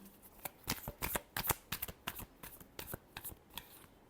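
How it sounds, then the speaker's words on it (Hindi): Tarot cards being shuffled by hand: a quick irregular run of crisp, close riffling and slapping clicks, fairly soft, with no talking. "last shuffle"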